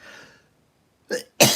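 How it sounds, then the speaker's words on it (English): Single explosive cough bursting out close and loud after a shorter rough burst just before it, following a moment of silence and faint earlier noise. "that cough got me toasty"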